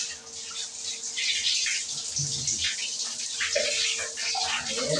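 Water runs and splashes from a tap while a dog is being bathed, a steady close hiss with a faint voice and some brief bird-like chirps.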